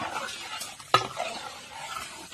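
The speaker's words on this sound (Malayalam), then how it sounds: "നന്നായിട്ട് അങ്ങ് ഇളക്കിക്കുക" Milk is stirred in a pan while payasam cooks, a soft scraping swirl with a low sizzle and one sharp clink of the utensil against the pan, close and quiet.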